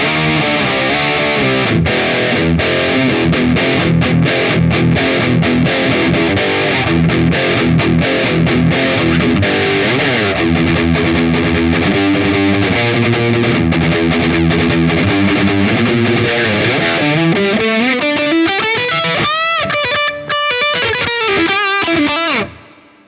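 Heavy metal rhythm guitar through a Line 6 POD GO preset, thick distorted chugging riffs with reverb tails, loud and continuous, ending in sustained ringing chords that cut off abruptly.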